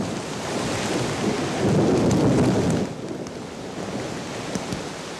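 Steady heavy rain hisses throughout, with a deep rolling swell of thunder rising in the middle before easing back to the downpour.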